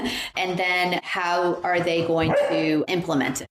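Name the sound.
dog barking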